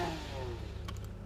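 Car engine in a GTA roleplay game revving briefly, a mid-pitched rising drone that holds steady and fairly near, ending with a few faint clicks.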